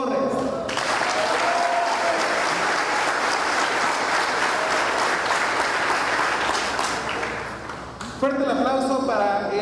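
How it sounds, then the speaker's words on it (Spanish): Sustained applause from an audience at a formal legislative session marking a swearing-in ceremony, loud and continuous for most of the clip before tapering off, with voices coming through near the end. "Fuerte el aplauso"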